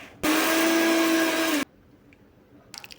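A kitchen mixer grinder pulsing dried ambad/karandi shrimp with salt for a coarse chutney: one loud, close whirring burst of about a second and a half that cuts off sharply into quiet room sound.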